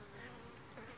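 Honeybees buzz steadily around a weak hive, pollen-carrying bees among them, a dense, continuous drone of many wings close by with no voices.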